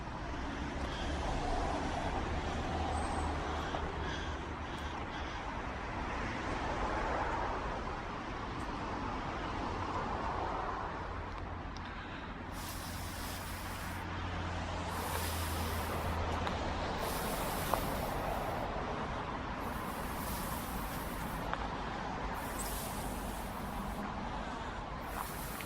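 Road traffic rumbles steadily beyond a woodland path, a continuous wash of passing vehicles that swells and grows louder, with no voices over it.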